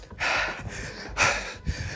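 Heavy, forceful breaths from someone during a bodyweight home workout of side shuttles, with several loud gasping inhales and exhales in an uneven rhythm, close and alone.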